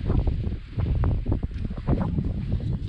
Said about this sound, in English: So it's super windy out here.